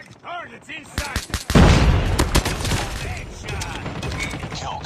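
In a video game, a weapon magazine is reloaded with quick mechanical clicks and clacks, then loud gunfire bursts follow close up, with voice effects and background game sounds.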